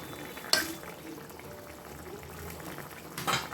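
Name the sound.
curry with potato, pointed gourd and paneer boiling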